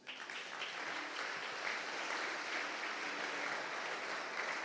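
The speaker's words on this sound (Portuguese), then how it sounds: "Aplauda o Senhor por isso." A church congregation applauds during a Portuguese-language sermon. The clapping is a sustained, even wash of many hands at moderate level, rising quickly and then holding steady with no voice on top.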